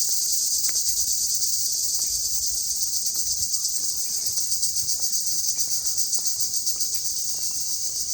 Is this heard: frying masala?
no